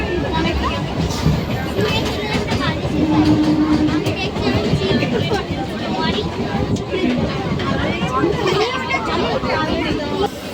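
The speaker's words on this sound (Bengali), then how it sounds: "তো এখন বাগনান ঢুকছে ট্রেন।" A train rumbles steadily throughout as it pulls into Bagnan station, with a busy crowd murmuring and people talking over the rolling, rattling clatter of the carriages.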